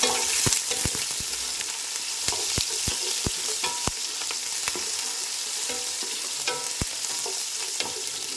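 Garlic cloves and green chillies sautéing in a pan for rose apple pickle, a steady close sizzle broken by sharp clicks of a spoon stirring against the pan, with no talk.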